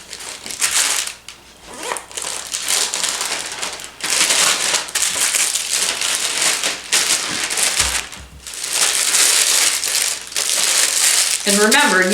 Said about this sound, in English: And I think I'll just put it in a baggie.